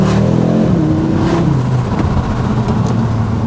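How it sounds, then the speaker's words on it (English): A 2022 Audi RS3 saloon in sport mode revs its 5-cylinder engine, the exhaust rising in pitch and then settling into a loud, throaty, slightly muffled rumble close by. "the exhaust is louder in sport"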